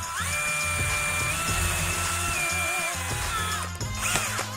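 A power drill bores a hole through wood while building an arm-mounted skewer shooter from a 2x4 and PVC, a steady high whine running continuously and close up, with small shifts in pitch as it cuts.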